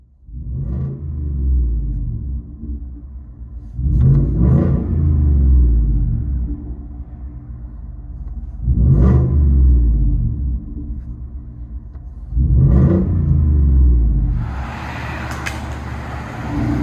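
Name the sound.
2018 Ford F-150 5.0L V8 Borla ATAK exhaust heard from inside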